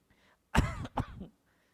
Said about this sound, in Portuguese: Me deu até tosse agora.